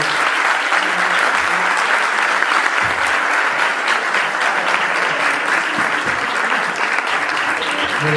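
Sustained audience applause after a university lecture on religion and power in Madrid, a continuous, even roar of many clapping hands lasting several seconds without pause.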